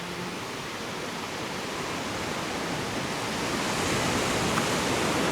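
Sea waves wash onto the beach at Kennack Sands in Cornwall, a dense, steady roar of surf that swells slightly louder toward the end, heard alone without voices.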